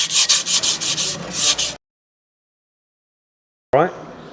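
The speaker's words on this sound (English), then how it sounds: "So we'll just get rid of the excess dust in there and clean up the shoes a little bit." Quick rhythmic brushing strokes scrub dust from caravan brake shoes, about seven close rasping passes, then a gap of silence before one more brief scrape.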